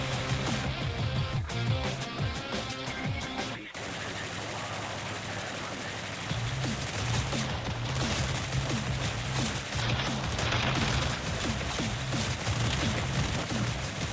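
Rapid-fire weapon in the video game Galactic Rangers, shooting in fast, steady streams of repeated shots with a brief break partway through, running under a continuous music bed while someone talks over it.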